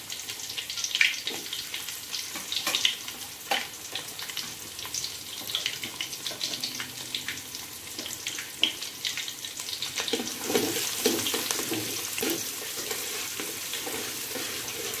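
Shallots sizzle steadily in hot oil with star anise and cardamom pods, a dense continuous frying crackle with occasional stirring scrapes, close and fairly loud with no talk.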